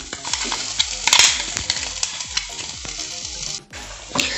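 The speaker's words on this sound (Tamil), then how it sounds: "இது வந்து நம்ம இதில் போட்டு லைட்டாக ஃப்ரை பண்ணிக்கலாம்." Ground jackfruit seed paste fries in ghee, a close, steady sizzle broken by frequent scraping, stirring strokes of a utensil against the pan, with no talk.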